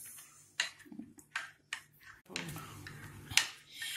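A spoon clinks and scrapes against a bowl in short, irregular taps while custard powder is stirred into liquid for a fruit custard, quiet and close with no speech.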